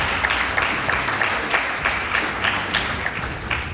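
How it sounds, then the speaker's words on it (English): A school debate audience applauds the announced winners, a dense, continuous burst of clapping from a sizeable crowd, moderately loud and steady with slight swells. "Let's give them a round of applause."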